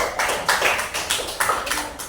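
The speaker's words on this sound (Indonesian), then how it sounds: "beri tepuk tangan untuk kelompok 1" An audience in a teacher-training classroom session applauds a group, producing uneven bursts of clapping with several louder swells over a short, busy stretch and no voices.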